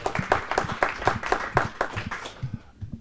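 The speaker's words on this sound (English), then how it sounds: "Please give another round of applause for Maaret." A small audience of about twenty at a software testing talk claps for the speaker in sparse, distinct beats that thin out toward the end.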